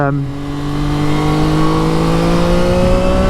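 A CFMOTO 675 NK motorcycle engine revs on the throttle, its loud, close tone climbing steadily in pitch through one sustained pull, with a rider's voice partly over it.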